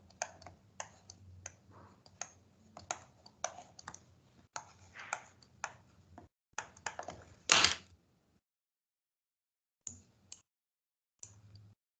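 Calculator keys pressed in a quick series of sharp plastic clicks, working out an inverse cosine, with a few last taps after a short pause; no one speaks.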